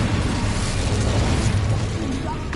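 Spell explosions from Bombarda and Confringo cast in the Hogwarts Legacy video game, a continuous dense rumble of blasts and bursts with heavy low end that stays loud throughout.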